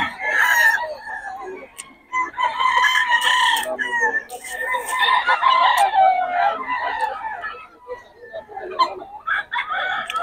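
Several quality roosters and stags, banded early-bird fowl at a gamefowl sale, crow and cluck close by, overlapping calls filling the scene with brief gaps and voices talking among them.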